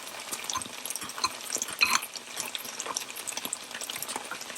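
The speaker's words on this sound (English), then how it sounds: "I'm adding a cornstarch and the vegetable oil. I'll mix them all together." Cornstarch and vegetable oil being stirred together in a pan for a Chinese-style broccoli and chicken dish, a busy wet sizzling swish with quick scraping strokes, close and moderately loud, no talking.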